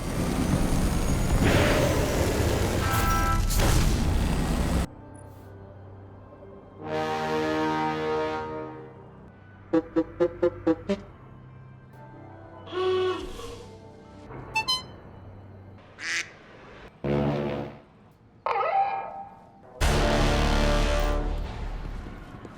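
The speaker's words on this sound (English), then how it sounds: "In the first game, you can customize your horn sound" Custom speeder bike horns from the Destiny video game, a varied run of loud honks, truck-style blasts, quick musical toots and jingle-like tones, each separated by short pauses, with no speech.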